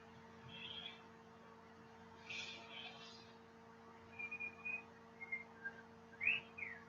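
A person whistles a loose, wandering tune in short phrases, faint and fairly close over a steady electrical hum in a quiet room.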